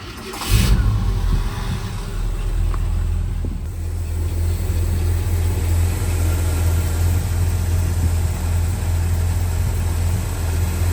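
A 1968 Ford F-100 pickup's 390 V8 turns over and catches, settling into a steady, deep rumbling idle that continues without pause.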